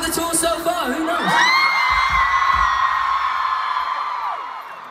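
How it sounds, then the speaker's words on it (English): A huge concert crowd at London's O2 Arena during a Greatest Hits Tour cheers loudly. Long, sustained whoops and yells swell early and hold near full volume for several seconds. "Maybe the loudest crowd of the tour so far, who knows?"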